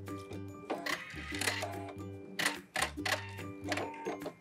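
A sewing machine stitches a t-shirt sleeve with a backstitch at the end, heard as several short, close bursts of rapid mechanical clatter separated by brief pauses.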